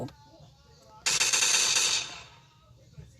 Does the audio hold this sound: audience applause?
no